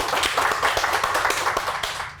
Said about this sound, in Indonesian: Tepuk tangan dulu dong, Pak Ahau.